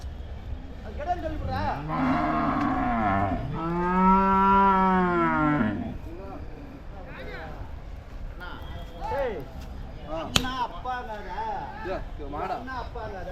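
Several dairy cattle moo loudly at the Uthangarai livestock market, long drawn-out calls one after another, over a busy background of people talking and animal movement.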